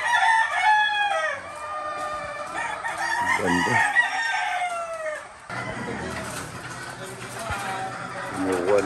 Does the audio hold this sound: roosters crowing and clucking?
yes